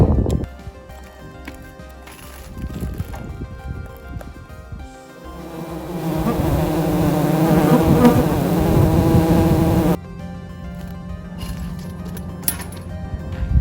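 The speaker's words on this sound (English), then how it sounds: "I am now going to attempt to capture the sounds of a beehive" Bees swarming around a beehive make a dense, steady buzz close to the microphone. It swells louder and fuller midway, then drops abruptly to a thinner hum.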